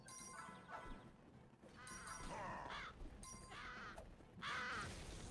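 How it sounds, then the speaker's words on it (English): Crows cawing in the video game Legend of Kay, with several harsh, scratchy calls repeating at a moderate level over a busy game backdrop. "There's so many crows."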